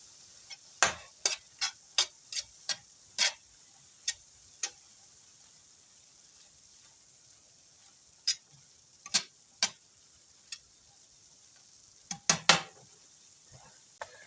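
Ground beef for stroganoff is pushed around a hot pan with a metal spoon: a faint steady sizzle runs underneath, broken by sharp, irregular clicks and scrapes of the spoon against the pan, some clustered and some spaced seconds apart.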